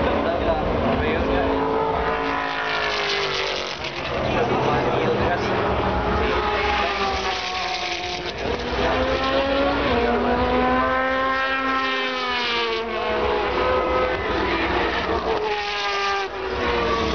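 Audi R18 Ultra diesel prototypes and other Le Mans race cars roar past in a long, loud stream of rising and falling engine notes, with a commentator talking over them throughout.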